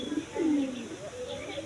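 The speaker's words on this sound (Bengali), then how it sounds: "আমাদের এই ঘুঘুটা" A pet dove cooing at home, a few soft low coos close by in a quiet room, with no other sounds around them.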